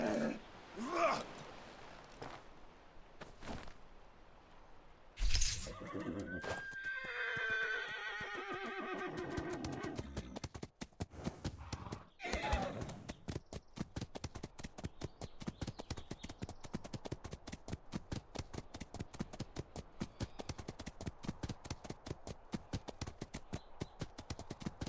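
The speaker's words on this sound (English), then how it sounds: "Stealing the horse because I gotta go up the hill." A horse in an online roleplay game neighs loudly with a long whinny early on, followed by a steady run of clip-clopping hooves that continues to the end.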